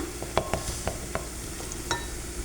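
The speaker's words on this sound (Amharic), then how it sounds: "እዚህ ጋር ሽንኩርታችን ቁልት እያለች ነው" Onions frying in a pan on a home stove, a soft steady sizzle with light clinks and stirring taps from a utensil scattered throughout, quiet and close.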